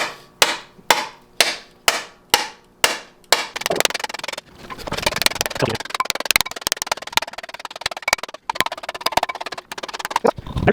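Heavy hammer blows on a part of a 1982 Lada being revived for ice racing, first six evenly spaced metallic strikes, then a rapid, dense flurry of clanks and rattles, loud and close.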